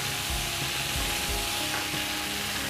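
Tomato added to meat sizzling in a pan for a brown stew: a steady, loud frying hiss with stirring scrapes and soft knocks throughout.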